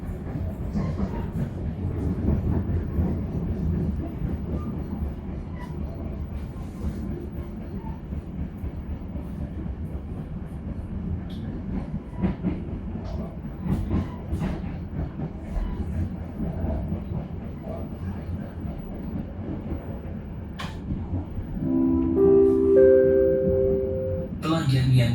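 A passenger train runs on after leaving Cirebon Kejaksan station in Java, a steady loud rumble of wheels and carriage noise heard from inside, with a brief rising tone near the end.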